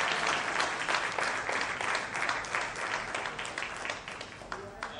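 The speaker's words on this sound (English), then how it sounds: "A huge round of applause," Audience applause at a real estate launch event, a dense wash of many hands clapping steadily for several seconds, moderately distant and gradually thinning toward the end.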